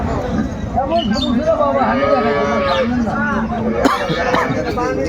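A cow moos repeatedly at the Aftabganj cattle market, its long lowing calls close and clear over the steady chatter of people talking nearby, with a cough breaking through.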